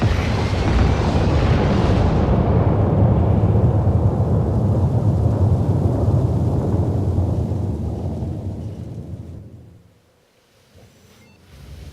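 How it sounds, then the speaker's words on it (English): Shredder missile explosions in the Helldivers 2 video game, a long rolling roar of blasts that is loud and dense at first, then fades away into near silence. "This guy wants to put on a show with the Shredder missiles."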